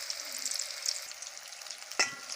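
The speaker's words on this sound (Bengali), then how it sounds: "এগুলো সব এখন ভাজা হয়ে আসছে, এরপরে এগুলো আমরা তুলে নেব।" A batch of cauliflower pieces frying in oil, giving a steady, moderate close sizzle with light crackle, then a short sharp clink of a utensil near the end; no one speaks.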